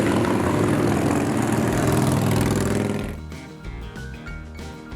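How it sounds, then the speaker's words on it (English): An Indian Scout Bobber motorcycle engine roars loudly up close for a few seconds, then drops away to a lower, quieter rumble as the ride continues. "Let's get on the bike, get out of here."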